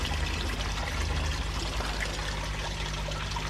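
Water pours and trickles steadily over pond plants during a rinse, a continuous splashing stream close by with a low hum beneath it.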